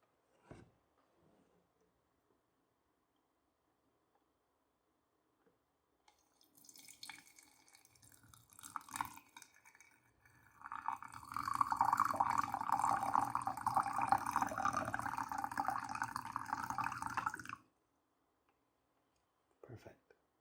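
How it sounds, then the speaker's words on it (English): Water being poured over Japanese tea leaves in a tea bag, a steady close pouring stream that swells for several seconds after softer handling noises, then stops abruptly. "we'll add the water."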